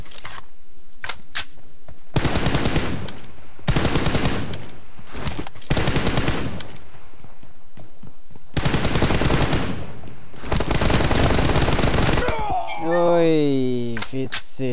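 Rapid automatic gunfire from a video game comes in several loud bursts separated by short pauses, with a sweeping electronic sound near the end and players talking over the action.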